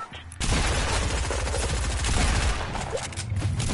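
Rapid gunfire from the video game Fortnite, dense bursts of shots rattling continuously and loudly after a short quieter lead-in, with the noise of battle sustained throughout.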